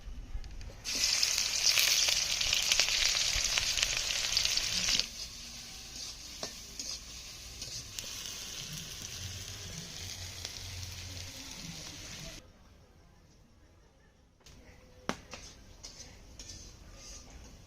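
Chopped chili and onion hit hot oil in a pan with a loud, bright sizzle that then settles into a steadier, quieter frying hiss, broken by occasional clinks and stirring scrapes.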